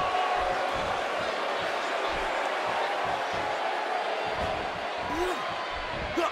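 Loud arena crowd in the wrestling video game WWE 2K18, set in Tokyo, roaring and cheering continuously, a dense wall of voices with occasional sharper shouts and thuds.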